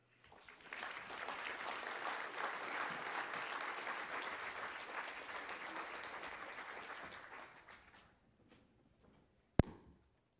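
An audience bursts into warm, sustained applause to welcome a speaker at a symposium, a dense clapping that swells quickly, holds for several seconds, then tapers off, followed by one sharp thump.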